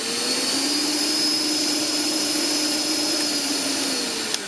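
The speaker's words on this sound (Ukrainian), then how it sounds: "Бачимо, що світлодіоди засвітлилися і турбощітка в нас обертається." Philips cordless vacuum cleaner running with its turbo brush spinning, a steady close whine and whir with a faint motor hum, alone without talk.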